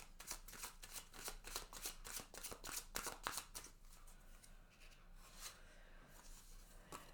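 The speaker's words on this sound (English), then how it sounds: "I'm going to pull one of these Oracle of Mystical Moment cards to finish off for you" Soft, close rustling and riffling of Oracle of Mystical Moment cards being shuffled and pulled from a deck, a quick series of papery flicks that fades into quieter rubbing, faint overall.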